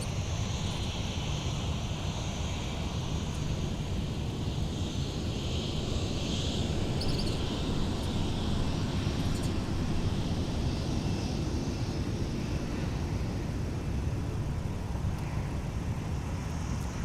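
A Delta Boeing 737-900ER jet bound for Tampa rumbles at Minneapolis–Saint Paul airport, a steady broad engine roar with wind noise, distant and continuous, no voices.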